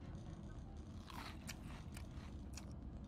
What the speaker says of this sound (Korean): 아, 얘 너무 쩝쩝 먹잖아.